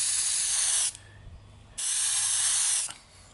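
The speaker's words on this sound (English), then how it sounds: "I'm just going to spray this and get a sense of, you know, what the effect is going to be." Weathering pigment is sprayed onto a model in two long hissing bursts, each about a second long with a short pause between, loud and close with no talking.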